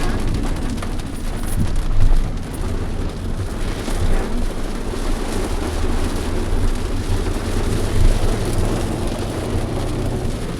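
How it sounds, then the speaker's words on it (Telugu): Rain begins to fall on a car travelling through Ganjam district, Odisha, toward Puri; a steady, dense wash of patter rides over a continuous low road rumble, with no voices. "వర్షం మొదలైంది"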